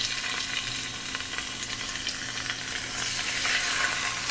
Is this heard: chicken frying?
yes